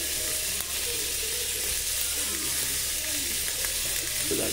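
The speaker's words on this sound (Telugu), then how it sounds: "సో ఇక్కడైతే మసాలాస్ అన్ని ఫ్రై చేసి పెడదాం" Spices fry in hot oil in a pan while a mixed vegetable dish is prepared, making a continuous close sizzle with a low background hum and a brief clink near the end.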